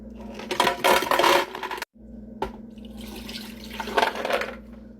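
Water poured into a blender jug in a home kitchen, a close splashing gush that pauses briefly and then resumes, with a low mechanical hum running underneath throughout.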